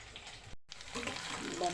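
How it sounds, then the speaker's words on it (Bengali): Bata fish frying in a pan, a steady hiss of sizzling oil that grows fuller and louder after a brief gap, with no one talking. "এখানে আমি বাটা মাছ ভেজে নিচ্ছি"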